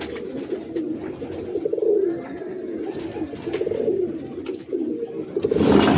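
Pigeons coo steadily in low, throaty rolling calls, several birds overlapping close by, with faint chirps in the background.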